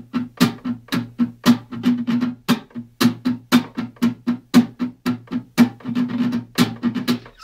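Muted guitar strings are strummed in a steady rhythmic chorus pattern, with percussive, choppy strokes repeating evenly and nobody talking over them.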